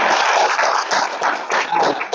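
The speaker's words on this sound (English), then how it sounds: "I think you ought to give yourself a round of applause again." Applause from an audience, a dense wash of clapping that carries on steadily for a couple of seconds.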